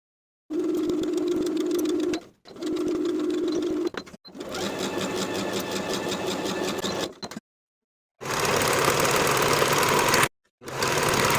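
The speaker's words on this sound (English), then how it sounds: "Sew the side seams and the shoulder seams with a 3/8 inch seam allowance." A sewing machine stitches the side seams of a blouse in several bursts separated by short silences, a close mechanical whir with a rapid needle chatter.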